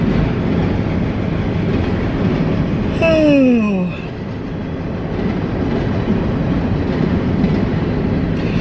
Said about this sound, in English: Does anybody live by a train, like right by a train track?